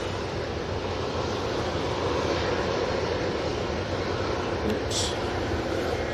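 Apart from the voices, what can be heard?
TUI airliner passing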